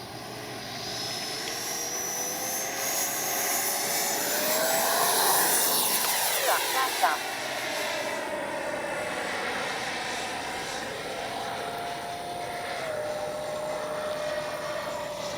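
A Freewing 80mm Avanti S V2 RC jet with an electric ducted fan takes off, its steady high whine rising and sweeping past nearby, then continuing as a sustained loud drone with no talk.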